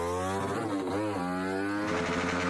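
A motorcycle engine in a Roblox game, revving steadily while the bike pops a wheelie; the drone is loud and close, with its pitch dipping and rising, then climbing again near the end.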